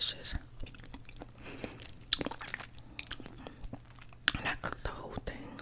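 Crunchy fried yellow squash scallops are bitten and chewed close to the mic, giving sharp, irregular crunches over a faint background hum.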